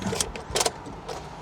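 The engine of a 2022 Isuzu MU-X 1.9 diesel SUV cranks and catches in short bursts, fairly faint and brief.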